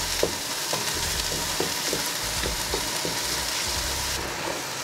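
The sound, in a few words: vegetables and chicken frying for fried rice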